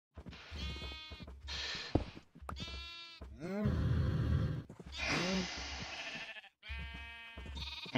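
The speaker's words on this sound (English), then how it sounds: "I'm gonna lose the sheep if I don't get him pushed back in." Several sheep bleat in the video game Minecraft, a run of close, wavering cries one after another with brief gaps between them.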